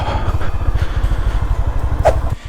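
Motorcycles ridden by bikers on a road near a village in Arunachal Pradesh thump along nearby, a loud, pulsing engine rhythm that stays close throughout.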